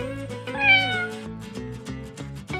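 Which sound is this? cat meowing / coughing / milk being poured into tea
cat meowing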